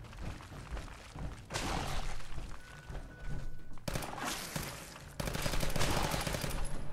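Rapid super pistol gunfire in Fallout 4, sustained bursts of shots rattling in dense clusters with abrupt cut-ins and a louder final volley, no voices over it.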